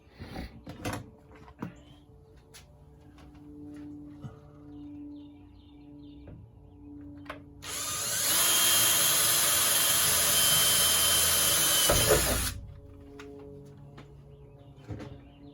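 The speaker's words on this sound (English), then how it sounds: "let's drill it out of the hole" A power drill whirs steadily for about four seconds, loud and close, drilling a mounting hole for an underhood light on a Jeep Cherokee, bracketed by quieter workshop clatter and handling noises before and after.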